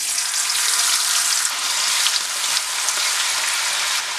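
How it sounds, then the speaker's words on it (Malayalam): Masala-coated fish for Kerala-style fish pickle frying in hot oil makes a loud, dense, continuous sizzle close up, holding steady with no talking. "ആ ചൂടായ എണ്ണയിലേക്ക് നമ്മളിവിടെ മസാലയൊക്കെ പറ്റി വെച്ചിരിക്കുന്ന മീൻ ഇട്ട് കൊടുത്ത് ഫ്രൈ ചെയ്തെടുക്കാം."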